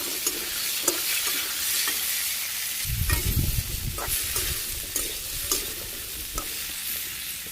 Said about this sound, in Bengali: পেঁয়াজটাও ভাজি হয়ে গেছে, চাল কুমড়াগুলো ছেড়ে দিই।